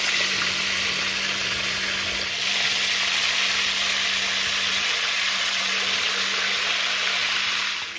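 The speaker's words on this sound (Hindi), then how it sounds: "बाकी जो चिकन पीस बचे हैं उनको भी हम फ्राई कर लेंगे इसी तेल में।" Chicken pieces fry in hot oil in a home kitchen, a loud continuous close sizzle with a constant hiss that swells a little partway through and holds steady to the end.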